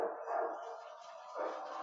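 Dogs barking faintly in the distance in a windy night setting, a couple of soft, muffled barks rising and falling over a short stretch.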